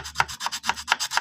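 Hand file rasping back and forth on a motorcycle clutch part being repaired for a running-clutch fault, about five steady strokes in quick rhythm, close and fairly loud with no talking.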